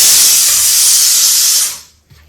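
A pressure cooker boiling rice vents steam in a loud, sustained hissing whistle for nearly two seconds before cutting off abruptly, leaving quiet kitchen background.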